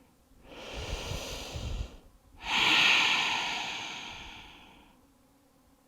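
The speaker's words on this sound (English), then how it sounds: "Again, deep inhale. Couple more breaths here." Deep breaths during a power yoga session, a slow inhale then a longer, louder exhale, close and alone with no talking.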